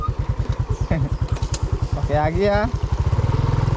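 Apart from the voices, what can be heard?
motorcycle engine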